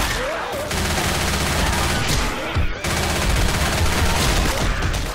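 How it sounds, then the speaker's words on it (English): Rapid bursts of gunfire from Left 4 Dead 2 on the Dark Carnival highway, loud and nearly continuous with brief pauses, a dense rattling fusillade filling the scene alongside other game noise. "Shooting! Oh. He's shooting."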